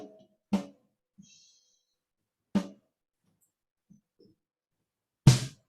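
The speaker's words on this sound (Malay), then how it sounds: "Ni bunyi top snare saya ni." Snare drum captured by a top microphone in a recording session, three sharp, loud single hits spaced a couple of seconds apart with near silence between them.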